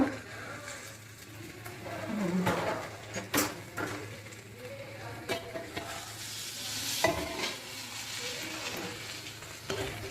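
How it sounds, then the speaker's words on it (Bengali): Chicken frying in a pan with beans, capsicum and onion, a steady sizzle under repeated scraping stir strokes and clinks, close and fairly loud, with occasional background voices. "আর এই বিনস ক্যাপসিকাম পেঁয়াজ আর এইটা দিয়েছি এটা এখন ভাজবো চিকেনের সঙ্গে"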